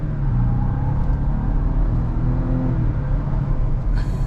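A 2025 Ford Ranger Lariat 4x4 with a new engine cruises around town at half throttle, heard from inside the cab as a steady low engine drone and road rumble with no rise in pitch.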